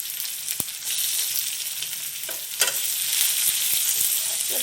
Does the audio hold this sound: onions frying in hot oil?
yes